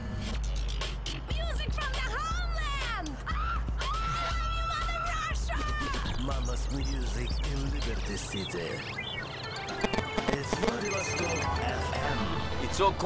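A phone in GTA IV rings insistently with a warbling electronic ringtone, heard under game effects and talk.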